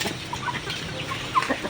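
Native chickens clucking nearby on a farm, with scattered short clucks and squawks over a busy outdoor background and a sharper call near the end.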